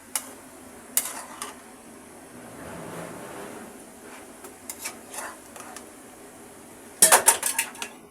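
A utensil stirs bottle gourd and shrimp curry in a pan, with sharp metallic scrapes and clinks against the pan at the start and a burst of quick knocks near the end over a low, soft sizzle.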